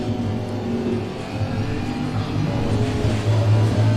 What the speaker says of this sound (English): the microphone is picking up the engine noise and everything, even though it's already in the game noise